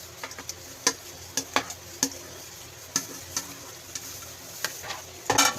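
Buko pandan dessert being mixed in a bowl: soft scraping and stirring with scattered light clinks and taps, close by and fairly quiet, with no talk.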